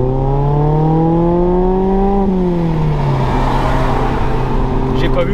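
A Mazda MX-5 ND with a 2-litre four-cylinder engine accelerates from inside the cabin, its note rising steadily through the revs before a gear change drops the pitch, with someone talking over the loud, continuous drone.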